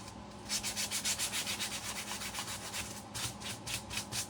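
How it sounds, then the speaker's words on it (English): Rhythmic back-and-forth strokes of sandpaper on a wooden piece for a farmhouse-style Christmas tree farm sign, close and steady, about a dozen even passes, then a short pause before more strokes, with no talking. "Go ahead and sand that."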